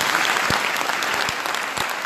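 Concert audience in Rijeka applauding the lyricist and composer of a Christmas song, a dense, steady wash of clapping with a few sharper claps standing out.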